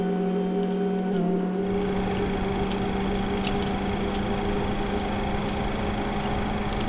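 Simulated Boeing 737 jet engine in the X-Plane 10 flight simulator spools up and runs, a steady, loud whine and broad rumble with a constant tonal hum, continuous throughout after a brief quieter start.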